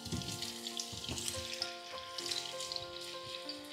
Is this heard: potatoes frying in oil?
yes